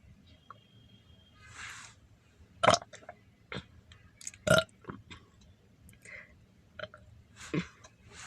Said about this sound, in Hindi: हमारे यहाँ डकार लेना अलाउड है लड़कियों को।